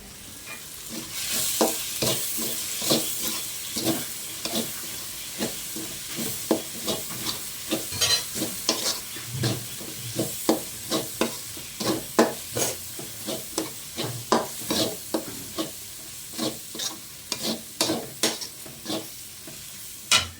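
A spoon stirring and scraping in a hot pan while beef bhuna fries and sizzles, with a steady sizzle bed and repeated sharp scraping strokes, close and clear, no talking.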